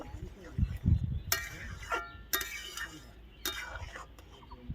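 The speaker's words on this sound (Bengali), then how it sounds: "এবার আরেকটু নাড়িয়ে নেব" A pot of jalebi sour dish, a Bengali sweet-and-tangy preparation, being stirred in a kitchen, with a few sharp metal clinks of a spoon against the pot over low bubbling and soft background noise.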